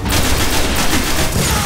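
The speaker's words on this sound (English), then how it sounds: "Wow, those homing bullets" Rapid, continuous gunfire from homing bullets in the video game Destiny, loud and dense with a steady stream of sharp shots filling the whole moment and no talking over it.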